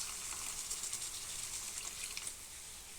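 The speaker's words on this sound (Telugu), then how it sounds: "కొంచెం వాటర్ వేస్తున్నానండి." Water poured into a pan of egg curry with ginger-garlic paste, giving a steady broadband hiss and gush of liquid meeting hot oil, moderately loud and continuous for about three seconds with no talking.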